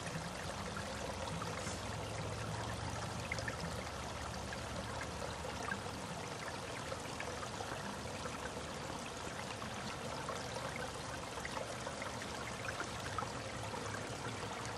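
Water from a mountain spring flows and pours in a steady, continuous rush, close and fairly quiet, with no voices.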